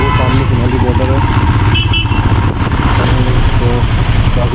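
Congested traffic at the Sonauli border crossing between India and Nepal: a steady, loud mass of idling and revving motorcycles and other engines close by, with horn-like tones poking through the rumble.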